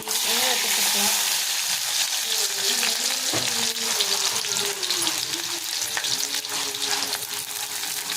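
Fenugreek seeds and mustard seeds sizzling in hot oil for an eggplant thokku, a dense, loud, steady crackle and hiss close up, with someone talking over it throughout.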